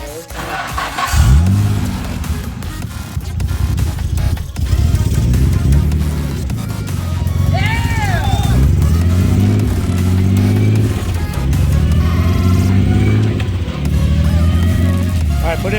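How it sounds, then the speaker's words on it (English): Nissan Laurel's RB20DET engine started and run in gear after a clutch job, a loud close idle that rises and falls through several revs, with people talking over it. "He's gonna start it and put it in gear and see if it rolls through the gears."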